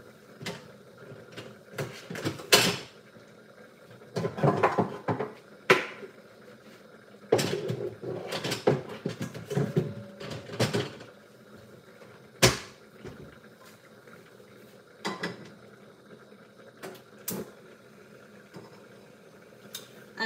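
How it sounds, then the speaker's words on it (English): Frying pans are swapped in a home kitchen, producing a series of sharp metallic clanks and knocks at irregular intervals, with quieter handling and rattling in between. "So I'm changing the frying pan"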